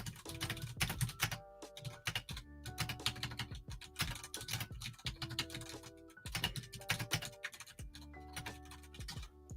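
Rapid typing on a computer keyboard, close and clear, dense bursts of clicking keys broken by brief pauses, with no speech over it.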